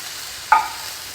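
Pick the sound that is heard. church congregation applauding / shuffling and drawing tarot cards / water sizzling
water sizzling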